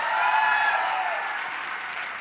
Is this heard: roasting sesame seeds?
no